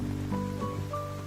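Heavy rain falling at night, a steady close hiss of water with a soft tonal music bed running underneath throughout.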